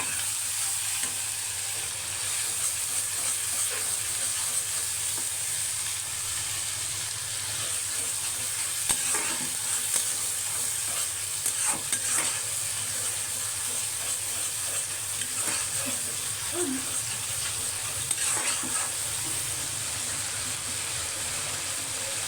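Onion sautés with mustard paste, garlic paste, turmeric and salt in a pan, giving a long, steady sizzle broken by scattered scrapes and taps of a stirring utensil. No one speaks.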